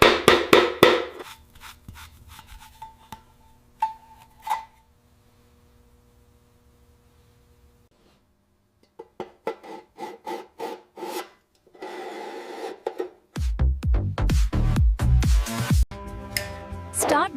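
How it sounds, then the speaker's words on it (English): Old tin cans being sanded down before being turned into planters: bursts of rough, raspy scraping separated by short quiet pauses, close and fairly loud, with no voices. "To turn your old tin cans into these cute planters, start by sanding them down."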